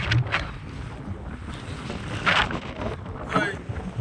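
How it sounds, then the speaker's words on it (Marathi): Strong wind gusting across an open hillside near Jyotiba, Kolhapur, buffeting the microphone in rough, uneven bursts with louder gusts partway through and near the end, a voice briefly audible under the roar. "वारं एवढं सुटलंय"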